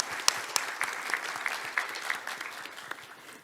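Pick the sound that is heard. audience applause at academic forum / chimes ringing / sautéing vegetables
audience applause at academic forum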